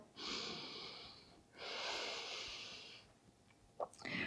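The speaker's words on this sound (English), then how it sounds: "Inhale and exhale." Two long, even breaths during a yoga class, a slow inhale followed by a slow exhale, each a soft airy rush lasting over a second, close and fairly quiet, then a few small faint clicks.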